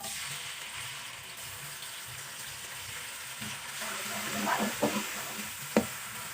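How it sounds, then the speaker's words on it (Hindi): A soft, steady frying hiss of onion sautéing in oil, with a few louder stirring scrapes and clicks near the end, close and moderately quiet. "हल्का सा इसको सौते करेंगे, ज़्यादा डार्क ब्राउन नहीं करना।"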